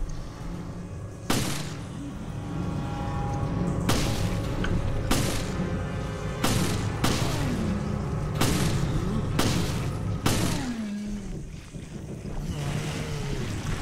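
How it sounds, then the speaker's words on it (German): Gunshots fired at a monster in the Resident Evil Revelations video game: about eight sharp, loud shots at irregular intervals over a steady rumbling, wind-like background. "Acht Schuss für ein Monster"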